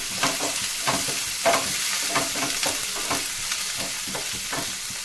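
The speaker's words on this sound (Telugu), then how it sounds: "రెండు రెబ్బల కరివేపాకు కూడా తీసుకున్నామండి. ఇది కూడా వేయించుకున్నాము." Curry leaves frying in hot oil for a brinjal curry, giving a loud, continuous crackling sizzle with rhythmic stirring strokes and no voices.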